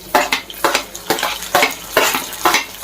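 Green chillies frying in a pan for methi chaman curry, rhythmic stirring strokes about twice a second over a light sizzle, close and fairly loud.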